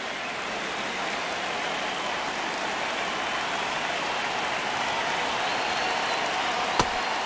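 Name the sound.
stadium crowd noise in MLB The Show video game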